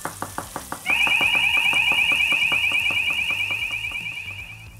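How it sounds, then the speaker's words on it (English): Smoke alarm set off while cooking a vegan chickpea tagine, opening with a few quick chirps, then a shrill continuous electronic tone that pulses rhythmically and fades slightly, with no talk over it. "now we've set the fire alarm off"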